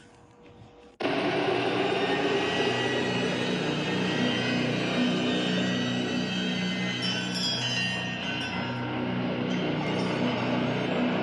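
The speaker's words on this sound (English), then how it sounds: "it sounds like a plane, didn't it?" A plane drones overhead as a loud, steady broadband roar that starts abruptly after a second of quiet and holds constant throughout.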